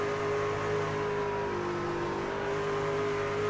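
A race truck engine in iRacing at Dover drones steadily with a sustained tonal whine, holding an even, fairly loud pitch throughout with no voices over it.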